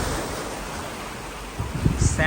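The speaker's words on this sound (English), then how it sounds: "It's a Thunder Cave. As the water comes in, it produces a sound." Sea waves surge into Thunder Cave, one of the Ovens sea caves near Lunenburg, Nova Scotia, as a steady wash of surf and wind with deeper booming thumps building near the end.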